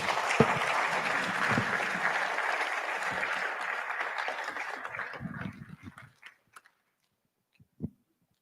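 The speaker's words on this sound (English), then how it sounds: "Please, let's keep clapping for Prof." A large assembly at a physicians and surgeons college fellowship induction applauds a professor in a dense, steady wash of clapping that thins out into a few scattered claps and then stops.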